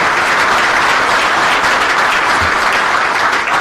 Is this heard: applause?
yes